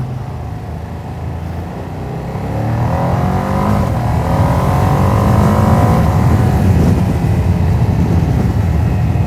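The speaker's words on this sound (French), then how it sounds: "ce petit moteur il fonctionne vraiment très très bien" A Ducati Panigale V2S sport motorcycle engine runs steadily at first, then revs higher and holds a droning, buzzing tone as it gets under way.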